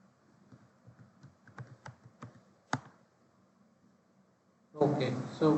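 Typing on a computer keyboard during Oracle WebLogic server admin work, a short run of close, distinct key clicks in quick succession, then a brief pause before a louder burst at the end.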